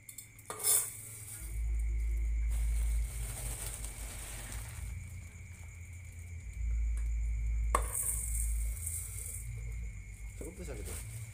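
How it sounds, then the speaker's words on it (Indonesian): A spoon scrapes and stirs through food in a pot while cooking nasi liwet, stir-fried water spinach and grilled fish, soft clinks and sizzle coming in bursts with faint background sounds. "Jadi diaduk ya."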